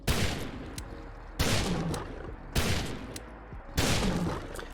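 Four heavy revolver gunshots from the video game Fallout 4, loud booming blasts spaced about a second apart, each followed by a long rumbling tail that trails off before the next shot.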